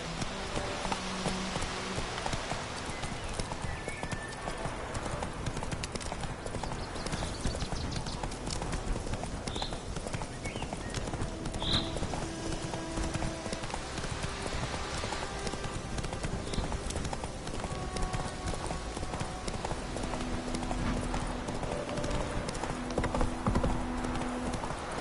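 Roach, a horse in The Witcher 3, clip-clops along in a steady, continuous hoof rhythm, with a faint whinny and a soft rain-like ambient wash in the background.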